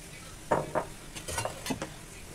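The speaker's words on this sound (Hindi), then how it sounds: "अब इसको चलाएंगे और इसको गुलाबी भूनेंगे" Semolina roasting in ghee, stirred with a utensil that knocks and scrapes the pan in a few quick strokes over a faint, low sizzle.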